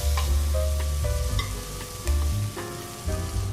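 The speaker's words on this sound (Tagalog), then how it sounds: "Add our onions and more oil." Onions fry in oil in a pan with a loud, constant sizzle, close up, broken by occasional stirring scrapes and clinks.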